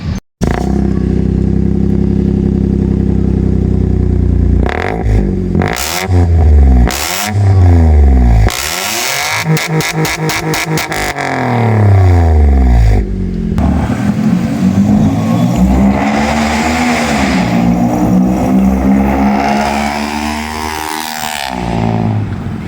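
A Toyota Agya fitted with a JS Racing downpipe and muffler revs repeatedly, loud and close: idle, several sharp throttle blips with quick falls, a fast string of stabs, then a long sustained rev that rises and eases off.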